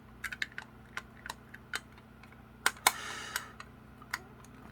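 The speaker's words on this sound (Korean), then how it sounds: "눌러서 열어보시면 예, 이렇게 본체가 있습니다." Plastic clicks and a short snap as the case of LG Tone Free wireless earbuds is pressed and opened, a few sharp close taps spread over a quiet room background.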